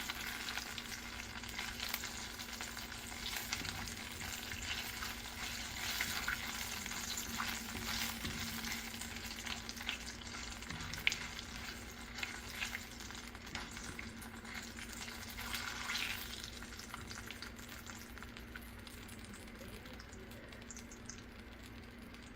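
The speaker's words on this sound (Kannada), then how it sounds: "ಈಗ ಸಾಸಿವೆ ಪಟ ಅಂದಾಜ್ಬೇಕು" Mustard seeds crackle and spit in hot oil as the tempering for a moringa (drumstick) leaves curry begins, a steady dense sizzle with scattered sharp pops running continuously, close and fairly quiet with no voices.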